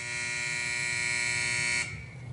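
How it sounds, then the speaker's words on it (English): A time buzzer in a Mario and Sonic game sounds as a loud, steady electronic buzz that holds for nearly two seconds and then cuts off abruptly, leaving quieter background noise. "I think that was my time buzzer"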